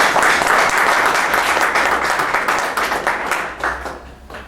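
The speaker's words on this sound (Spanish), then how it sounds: "para quien pido un aplauso" A room audience at a book presentation breaks into loud, dense applause that holds steady and then thins and fades toward the end.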